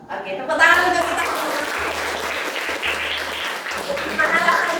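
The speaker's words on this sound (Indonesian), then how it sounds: "tepuk tangan untuk kita" A group claps together at a relaxed workshop session, a steady busy patter of hands with some voices and a faint recurring low hum underneath.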